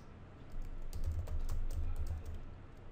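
Fingers tap out a quick run of keystrokes on a computer keyboard while entering a Unix cat command, soft and close with a low background hum, no voices.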